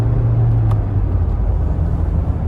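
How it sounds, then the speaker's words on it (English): A 1982 Mercedes 200 W123 engine rumbles steadily and loudly up close, accelerating through manual gears, with a low drone that holds fairly even throughout and no talking. "it accelerates nicely through the gears"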